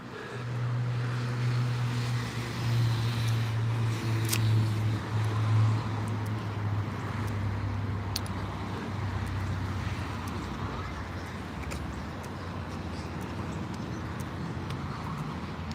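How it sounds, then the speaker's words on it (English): Loud road traffic along a city street on an evening walk, a steady broad rumble of passing cars with a low engine drone that swells and fades, continuous and fairly close throughout. "It's getting on my nerves, all those loud cars."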